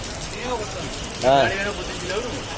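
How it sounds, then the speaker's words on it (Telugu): Morning rain in Kadapa, India, falls in a steady hiss, with a voice briefly rising over it partway through. "కడపలో ఉదయం నుంచి కురుస్తున్న వర్షం"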